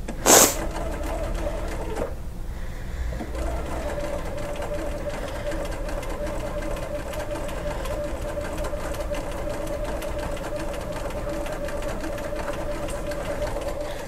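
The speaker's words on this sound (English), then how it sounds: "So we set up our sewing machine to do a zigzag stitch," Sewing machine running a zigzag stitch on a jelly roll placemat, with one sharp click at the start, then a steady close mechanical whir and rapid needle chatter that runs on without a break, with faint talk in the background.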